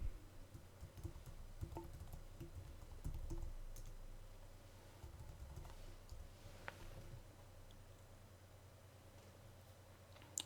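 A username and password are typed on a computer keyboard, with soft rapid key clicks in a quiet room, faint and close, fading after the first few seconds.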